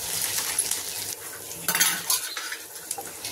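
Dried red chillies, ten to fifteen of them, stirred in a pan with frying onions: a spoon scrapes and clinks against the metal in irregular bursts over a soft background sizzle, close and fairly quiet, no talking.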